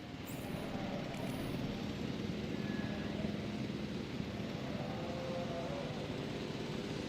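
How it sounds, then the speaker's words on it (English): A helicopter in the game Jurassic World Evolution drones with a steady, fairly loud rotor and engine rumble that holds constant throughout, with no talk over it. "Might as well wait and see if the helicopter finishes."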